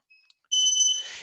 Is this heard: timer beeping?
yes